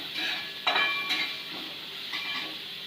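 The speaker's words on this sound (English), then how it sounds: "saute for a minute, half a minute, till translucent" Chopped onion sizzles in a hot pan with a steady frying hiss, broken by a few close scrapes and clinks of a utensil stirring against the metal.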